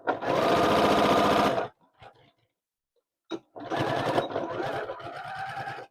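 Sewing machine stitching a quilt in improv quilt-as-you-go style, running loud and steady for about a second and a half, stopping, then starting again and running for the rest of the clip, with small handling clicks in the pause.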